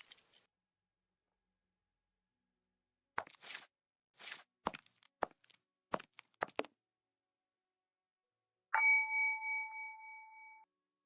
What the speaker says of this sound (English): I'm going to ring the doorbell.